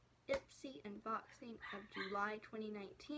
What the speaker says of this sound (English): I'm sorry if you hear my dogs out there barking.